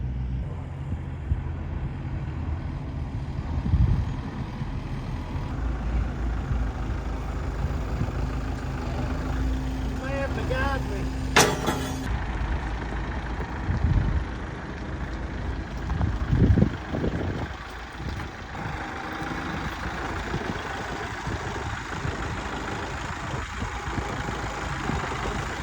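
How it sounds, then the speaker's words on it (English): A low, steady tractor engine idles and rumbles throughout as it approaches, with a few louder thumps and brief mechanical whines partway through; no talking. "he's about to bring the tractor in, and I can hear him coming"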